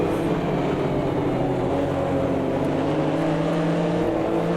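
Steady, loud engine roar with sustained harmonic drone of a Porsche RSR race car at speed in Automobilista 2, continuous throughout with no talking.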